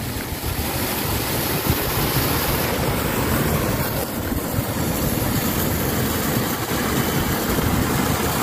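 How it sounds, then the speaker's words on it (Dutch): The Sint-Jansbeek stream rushes down into the Rhine at Arnhem during low water, a constant, loud, broadband roar of flowing water with no pauses. "Hoe het water naar beneden gaat."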